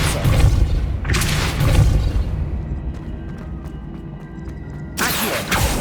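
A Depulso repelling spell cast in Hogwarts Legacy, heard as deep booming thumps in bursts, with a quieter rumbling stretch between the blasts.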